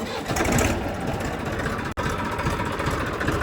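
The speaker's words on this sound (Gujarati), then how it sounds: "ઇન્જિન થોડી વાર થોડીક વાર આપણે ગરમ કરી નાખી" A tractor engine idles while warming up before a village milk run. The chugging drone is loud, close and continuous, with one very brief dropout.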